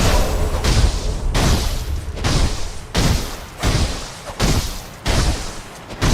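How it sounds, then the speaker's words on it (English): Firecracker prosthetic tool firing in the video game Sekiro, a rapid series of loud, bursting booms and crackling thuds repeating roughly every second, close and sharp. "You want to scare him with a children's firecracker."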